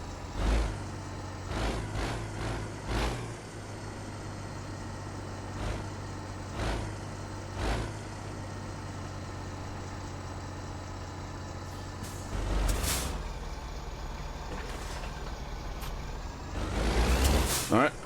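An air brake hisses as a parking brake is set on a heavy truck in American Truck Simulator, with an idling diesel rumbling underneath, several sharp bursts of release air and a louder hiss near the end, while someone talks over it.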